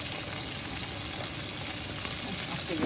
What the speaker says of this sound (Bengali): সেই জন্য একেবারে হালকা ভাজা করে নিলাম।